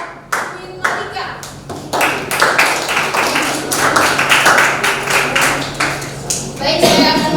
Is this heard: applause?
yes